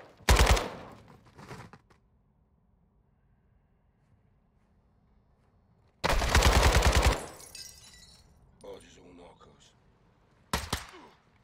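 Automatic gunfire in Call of Duty Modern Warfare 2, loud close bursts opening the clip, a long sustained volley in the middle and a short final burst, separated by quiet stretches.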